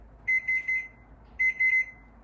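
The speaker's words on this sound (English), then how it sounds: "I'm waiting for the timer to go off and I don't want it to scare me." A kitchen timer goes off in a home kitchen with two bursts of bright electronic beeps, three short tones then a longer pair, close, clear and alone over a quiet background.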